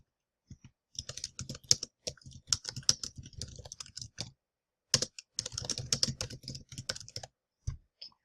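Quick bursts of typing on a computer keyboard, close and crisp, come in uneven runs with brief pauses between them as a search is entered.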